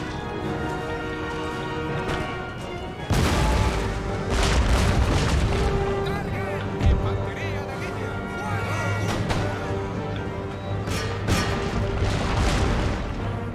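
Cannon artillery in Empire Total War booms out in repeated heavy blasts over a din of battle, with the thuds recurring through the clip; someone talks over it.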